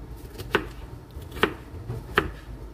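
A knife chops food into small cubes for kinilaw, three sharp, evenly spaced thuds on a cutting board, close and clear with no talking.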